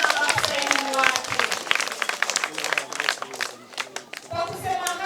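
Audience applause at a school academic show in Mpanda, Katavi, where crowd clapping rises and falls under an announcer's amplified voice speaking throughout.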